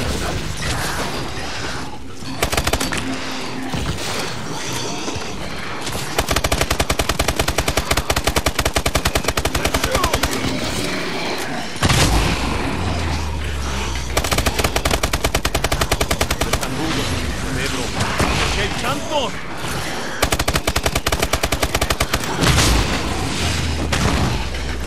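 Rapid automatic gunfire in the zombie mode of Call of Duty: Exo Zombies on PS3, dense loud bursts alternating with shorter lulls of game noise and mechanical clatter, with no talk.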